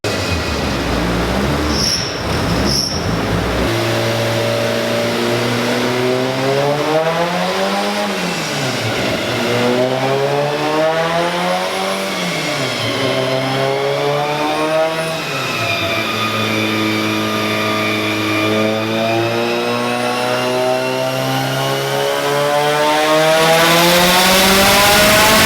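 A Mitsubishi Evo 8 engine revs hard on a dyno during a pull, its loud, steady engine note climbing and dipping through repeated sweeps of rising pitch over about twenty-five seconds, with no talking.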